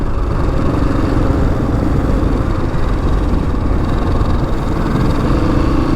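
Husqvarna 701 motorcycle riding down a racetrack, its engine a steady, loud drone with constant low rumble and wind noise throughout, no voices.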